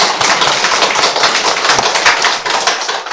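A church congregation claps together in thanks during a Sunday worship service, a dense, steady patter of many hands filling the room at close range with no speech over it.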